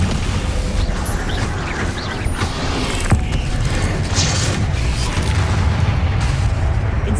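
Spell impacts from the Hogwarts Legacy video game, Incendio fire blasts and Descendo slams, land as booming thuds over a dense, continuous rumble of game combat, with one sharp crack near the middle.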